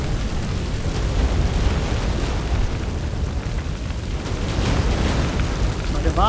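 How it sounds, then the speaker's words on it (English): A deep, continuous earthquake rumble in The Witcher 3 rolls on steadily throughout, loud and dense in the low end with a faint rise near the end. "An earthquake? we must hurry."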